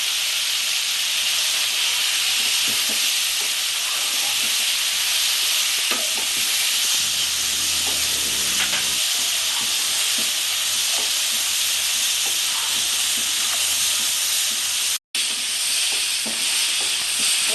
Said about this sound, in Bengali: আমি এভাবে একটু ভাজা ভাজা করব